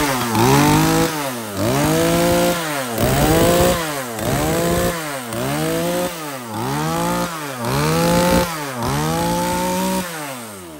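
A used Japanese G8 chainsaw runs close and loud, its two-stroke engine revving up and dropping back about nine times in a steady rhythmic cycle of rising whines, with nobody speaking.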